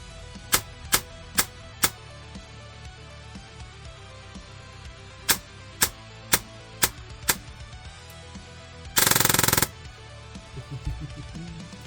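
Semi-automatic gunfire at a low rate of fire in a video game: two spaced bursts of four single sharp shots each, followed by a short loud mechanical blast and quieter clatter.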